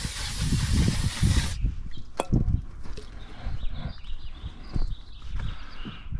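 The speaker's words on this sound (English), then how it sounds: "Spray some brake cleaner on this to get that cleaning." Brake cleaner from an aerosol can sprays onto a funnel in a loud, steady hiss lasting about a second and a half. Quieter clunks and handling noises follow.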